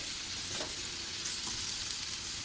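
Potato slices coated in semolina fry in a pan with oil, a steady close bright sizzle running evenly throughout with a couple of faint stirring touches and no voices.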